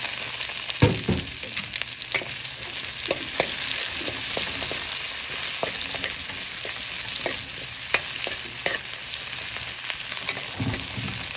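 Onions frying in a pan for Filipino ginataang gulay, with a steady, close sizzle and occasional sharp clacks of a spatula stirring against the pan. There is no talk.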